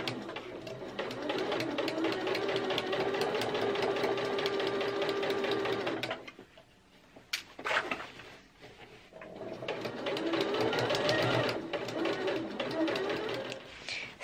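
A sewing machine runs close up, top stitching a bias-bound hem on a skirt at a 2.8 stitch length, with two long steady whirring runs separated by a brief pause and a few clicks.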